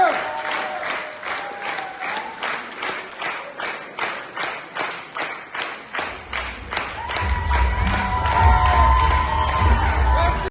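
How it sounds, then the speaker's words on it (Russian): A theatre audience applauds and cheers its visiting guests, with steady, rhythmic clapping throughout and a louder swell of cheering and crowd noise in the last few seconds. "Давайте еще раз похлопаем нашим гостям"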